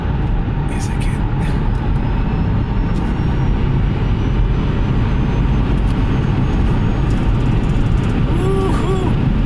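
A Hyundai Kona Electric is pushed hard through corners, its steady loud road and wind roar filling the cabin with a low rumble throughout, while an excited voice talks over it.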